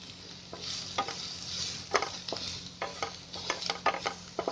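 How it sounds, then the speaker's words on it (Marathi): Onion and turmeric frying in a pan for quinoa upma, a soft continuous sizzle with repeated scraping stirs of a spoon, close and fairly quiet. "थोडा कांदा चांगला फ्राय झाला ना त्याच्यामध्ये आहे ना हळद टाकायची."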